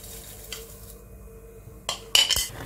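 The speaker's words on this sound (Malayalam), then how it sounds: "5 സ്പൂൺ ഓട്സ് ഈ വെള്ളം ഇതിലേക്ക് നമ്മൾ ഇടുവാണ്." Rolled oats tipped into a pot of water warming on the stove for a breakfast dish, a brief soft scrape and rustle followed by a louder clatter of spoon against the pot near the end, close and fairly quiet.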